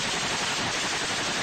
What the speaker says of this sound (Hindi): एक लड़ाका मशीन गन से एक तरफ ताबड़तोड़ गोलियां चलाता दिखाई दिया।